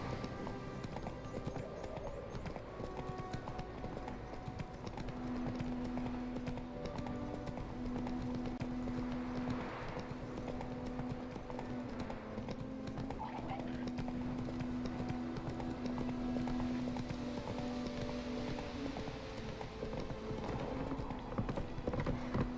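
Horse hooves clip-clop steadily at a gallop in The Witcher 3, a continuous rhythmic beat under game ambience and occasional voices.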